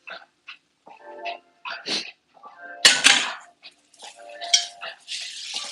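Scraping and clattering of a utensil against a pan as ground beef is pushed into it, close and intermittent with several short bursts and one louder scrape, alongside light kitchen clinks.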